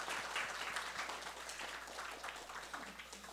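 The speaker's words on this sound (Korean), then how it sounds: "우리 하나님께 영광의 박수를 다시 한번 돌려드립시다." A high-school youth congregation in a Seoul church applauds, a soft, even patter of many hands clapping at a distance that fades slightly toward the end.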